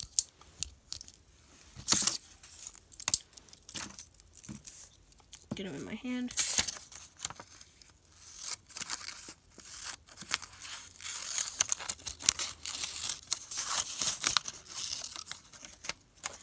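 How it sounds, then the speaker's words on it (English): Small scissors on a Leatherman Micra multitool snip repeatedly up close, crisp clicking cuts scattered among rustling, with a short spoken phrase early on. "let's test out these scissors"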